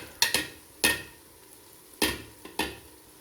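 A utensil scrapes and knocks in a pan as spices are stirred through fried onions, several sharp clattering strokes spaced irregularly over a faint sizzle.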